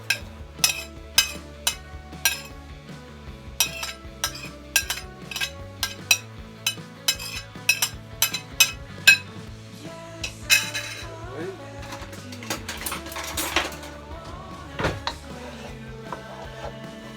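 Red and white onion, green and yellow pepper, garlic and carrot tossed into a metal pot, heard as a string of sharp clinks and knocks of utensil on cookware, then scraping and stirring sounds.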